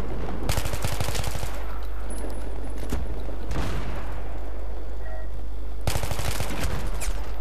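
Bursts of rapid automatic gunfire from the video game Battlefield 3 come in three loud volleys separated by brief quieter gaps, with a few single shots and a low booming bed in between.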